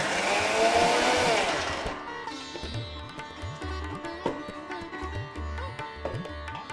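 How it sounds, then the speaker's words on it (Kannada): A mixer grinder pulsing peanuts with curry leaves into a spice powder: a loud, full grinding roar at first, then short, repeated motor bursts with a whining hum, close and steady. "ಇದು ಶೇಂಗಾ ಬೀಜ ಹಾಕಿದ ಮೇಲೆ ನಾವು ಸ್ವಲ್ಪ ಪಲ್ಸಲ್ಲೇ ರುಬ್ಕೋಬೇಕು"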